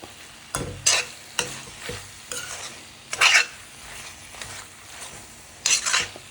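Ridge gourd channa curry stirred in a pan, a handful of sharp scraping strokes of a spoon against the pan in an irregular rhythm over a quiet, faint sizzle, close up and without talk.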